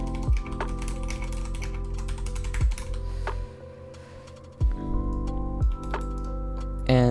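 Typing on a computer keyboard, with a few sharp separate key strikes over a steady background hum.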